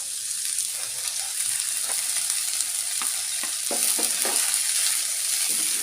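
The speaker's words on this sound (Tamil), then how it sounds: "முருங்கைப்பூவை சேர்த்து நல்லா கலந்து விடுங்க சீக்கிரம் வெந்து வந்துடும்" Drumstick flowers stirred and sautéed in a pan with softened tomato, a steady close sizzle broken by several scraping stirs toward the end.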